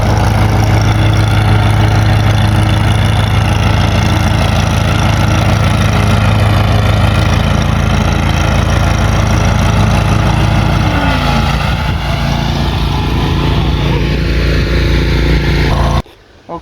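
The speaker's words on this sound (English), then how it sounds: "So now I'll just do a short demonstration on each of these mowers." A John Deere commercial zero-turn mower with a mulching deck runs loud and steady close by, its engine drone and blade whir continuous for about sixteen seconds before stopping abruptly.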